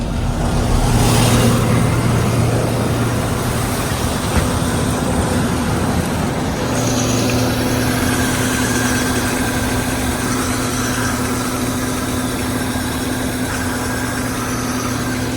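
A combine harvester's engine runs while it threshes peas, with the drum at 200 rpm and the fan at 1250. It makes a close, continuous mechanical drone with steady humming tones that shift slightly partway through.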